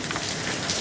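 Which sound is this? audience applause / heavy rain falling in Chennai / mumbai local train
heavy rain falling in Chennai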